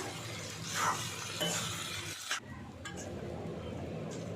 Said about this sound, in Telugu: ఈ ఆలు ఫ్రై మొత్తం రైస్కి పట్టేలాగా మిక్స్ చేయాలి